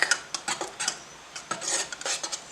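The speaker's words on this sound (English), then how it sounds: "I stir it really well because the pigment is brass powder" Brass-coloured antique lettering enamel, pigmented with brass powder, being stirred in its can: a run of short scraping, clinking strokes in uneven bursts, close and fairly quiet.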